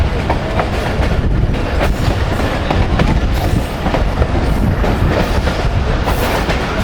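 Millat Express passenger train running on the rails in Pakistan after leaving a station, with a steady, loud rumble and rhythmic clickety-clack of wheels throughout, no voices.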